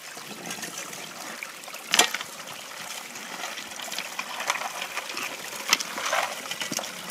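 Creek water flows and splashes steadily through a sluice box used for small-scale gold prospecting, a soft continuous wash with occasional brief knocks and trickles.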